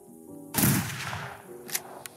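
A gunshot in the tactical shooter game TWW fires through a wall, making one loud, sharp blast with a long, decaying tail, followed by two fainter, brief impacts a moment later.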